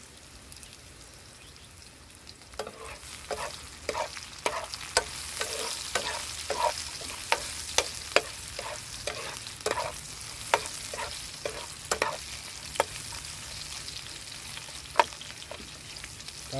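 Garlic is stir-fried in a pan: a soft steady sizzle with a rhythmic run of spatula scrapes and taps against the metal, starting after a quieter opening and continuing evenly to the end.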